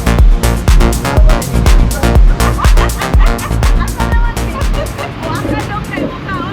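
Puppies bark and yip in rapid, loud bursts close by, with people talking and crowd chatter mixed in throughout.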